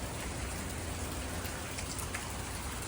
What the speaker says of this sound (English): so I'm glad it's raining.